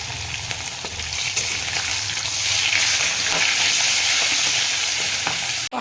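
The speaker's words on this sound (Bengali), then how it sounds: "এবার তুলে নিব, দিয়ে মাথাটা ভাজা।" A fish head sputters and sizzles loudly in a frying pan, a dense continuous crackle with occasional stirring scrapes, ending abruptly.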